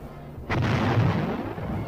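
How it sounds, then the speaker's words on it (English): Korean War tanks fire their cannons at enemy emplacements near a ridge. One loud blast breaks out and rolls into a sustained heavy roar that lasts to the end. "The tanks move up to new positions nearer the ridge and continue to blast away at the communist emplacements."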